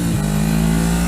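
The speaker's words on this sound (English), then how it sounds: "I had recorded the sound of what the bike was making before." A motorcycle engine with a faulty cam chain tensioner runs steadily, giving a loud, close, continuous mechanical drone with a low pitched hum and slight rising note at the start, heard from a recording played back.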